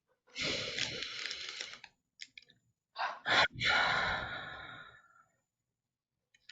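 A person takes slow, deep breaths during a forgiveness breathing exercise, with a long inhale, a few short catches of breath and then a long, audible exhale, close and fairly quiet, followed by silence.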